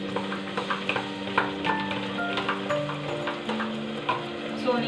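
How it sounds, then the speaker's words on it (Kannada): Ginger garlic paste with pepper and garam masala powder frying in a pan, a steady sizzle with spoon stirring and scraping taps, with soft tonal background sounds. "ಜಿಂಜರ್ ಗಾರ್ಲಿಕ್ ಪೇಸ್ಟ್ ಹಾಕಿದ್ದೀವಲ್ಲ, ಸೊ ನೀಟಾಗಿ ಒಂದು 2 to 3 ಸೆಕೆಂಡ್ಸ್ ಅಷ್ಟು ಫ್ರೈ ಮಾಡ್ಕೊಬೇಕು"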